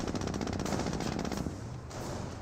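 Rapid bursts of machine gun fire from Company of Heroes as Panzer Grenadiers engage a Jeep at close range, a dense, continuous rattling that runs unbroken for a couple of seconds.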